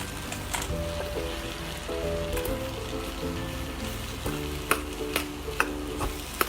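Poha being stirred into a hot pan with lightly charred onions, a steady sizzle under repeated scraping and stirring strokes, with a few sharp clanks of the spoon against the pan near the end.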